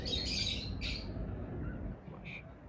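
A Missay breed game hen squawking close by: two harsh squawks in quick succession, then a shorter one after a pause, over steady low background noise.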